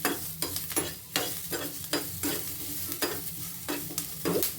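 Cinnamon, cloves and mint fry in a pan for a paya soup, with a steady sizzle under repeated close scrapes of a spoon stirring at a regular pace.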